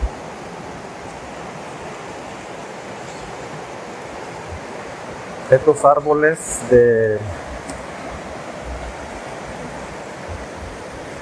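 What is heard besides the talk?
flooded Tecolostote river rushing water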